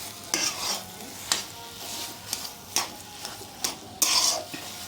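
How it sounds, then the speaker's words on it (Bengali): Boiled potatoes being stirred into a spiced mixture in a pan, with repeated scraping spoon strokes and soft clinks over a faint sizzle, irregular and close. "এখানে আমি দেবো সিদ্ধ করে রাখা আলুগুলো এর মধ্যে দিয়ে দেবো তো আলুটা আমার সঙ্গে ভালো করে মিশিয়ে নেবো"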